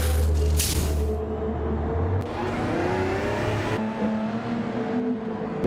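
Race cars accelerate hard on a restart in Gran Turismo 7, engines roaring loudly and upshifting with rising and falling pitch as the field pulls away, continuous and close, with no talk.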